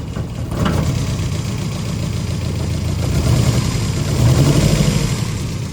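A red 1973 Lancia Fulvia coupe's 1.3-litre V4 idles fully cold without choke, a steady loud close engine rumble that sags slightly and lifts again, with no talking over it.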